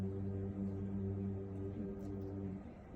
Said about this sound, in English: garter males dig out nest cavities under large intertidal rocks and then hum to attract females.